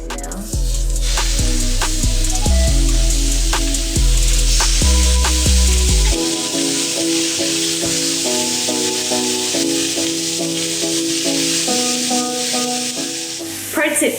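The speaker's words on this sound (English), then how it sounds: "Put it in the frying pan now." Burger patties sizzle steadily in a frying pan, a constant bright hiss under loud, prominent music.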